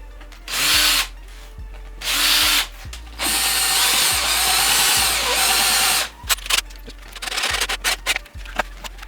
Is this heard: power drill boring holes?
yes